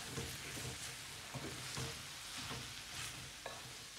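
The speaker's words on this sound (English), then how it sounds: "Stir well." Spring greens and half-cooked potatoes frying in a pan while being stirred, a constant soft sizzle broken by repeated scraping strokes of the utensil, close up with no voices.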